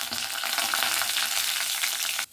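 Mustard seeds, cumin and fennel fry in oil for a tempering, a dense close sizzle with fine crackles and pops, steady throughout and stopping abruptly at the end.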